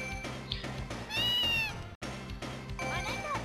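A cat meows in the Japanese arcade game Gals Panic S3, set among busy game music and effects, with a player talking over it.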